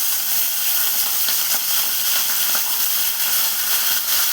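Green chillies frying in hot oil: a loud, continuous bright sizzle and hiss with small crackling pops, steady throughout and close up.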